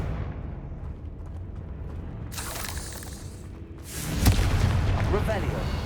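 A Confringo fire spell explodes in the Hogwarts Legacy video game, a sudden broadband blast around the four-second mark over dense game music and ambience, with a dramatic wash of sound beforehand and a voice casting the spell.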